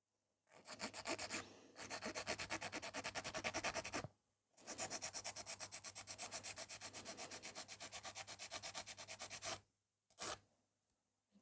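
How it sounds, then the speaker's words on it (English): A hand file shapes gel sculpted nails, angled to round the free edge. Quick, even rasping strokes come close and clear in two long runs, then a short final burst, with no talking. "Now the file goes at the angle because we want to have them a little bit rounded at the free edge."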